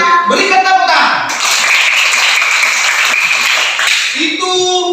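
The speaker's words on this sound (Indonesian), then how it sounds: "Berikan tepuk tangan." Sustained classroom applause from a group of pupils, dense and steady clapping for several seconds, with bits of voices mixed in at the start and end.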